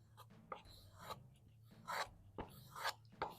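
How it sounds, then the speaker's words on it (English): A knife blade drawn back and forth across a leather strop, quiet close swishing strokes in an uneven rhythm, several passes in quick succession with no talking. "put it on a strop for a moment"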